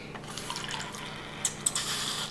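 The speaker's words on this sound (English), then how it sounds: "Now they're ready for the water squirting challenge." Water squirts and drips from Finding Dory bath squirter toys into a bath, a faint trickle ending in two short sharp spurts near the end.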